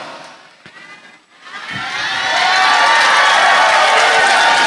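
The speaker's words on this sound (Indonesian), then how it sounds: "begitu saya berdiri, ibu-ibu langsung tepuk tangan sorak-sorak, seneng banget" Women in an audience clap and cheer, the noise swelling from a quieter start into loud, sustained crowd cheering with shouts and applause.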